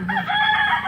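A gamecock clucking, a short close throaty call with a rising and falling tone, heard alone.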